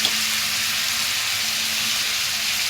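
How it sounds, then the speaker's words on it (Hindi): Onions and tomatoes with Kashmiri red chili fry in a pan, giving a steady, close hiss of sizzling oil that holds evenly throughout with no talk. "ये प्याज हमारी हल्की से भुन गई है। हम इसमें टमाटर ऐड करेंगे।"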